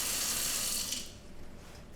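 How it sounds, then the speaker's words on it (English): Tap water runs into a kitchen sink with a garbage disposal, a steady hiss that fades partway through, leaving a quieter trickle. "Turn it off and let the water run and clean everything else out."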